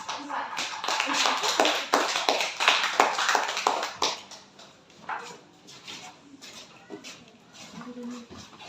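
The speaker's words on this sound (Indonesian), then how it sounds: "Berikan aplaus untuk kelompok 4." Applause for a student group in a classroom: a dense burst of many hands clapping, loud at first, then thinning and fading into scattered claps, with talk over it.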